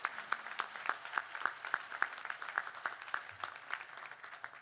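Applause welcoming board members at an annual volunteer awards and anniversary celebration, heard as sparse, distinct claps from a small group at a steady uneven rhythm, fairly faint.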